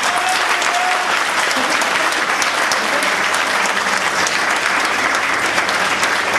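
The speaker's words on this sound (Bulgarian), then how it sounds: "Може ли да ръкопляскаме всички за Господа?" Congregation at a Bulgarian church conference in a large hall breaks into sustained, dense applause, steady and loud from start to finish with a faint murmur of voices beneath the clapping.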